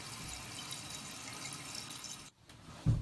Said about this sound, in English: Turn the water on. We know how it works. Fill it up.